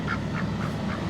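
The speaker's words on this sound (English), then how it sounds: "duck for dinner tonight because he won't shut up" A duck quacks in a rapid, continuous string of nasal calls, fairly close and loud, with no talking.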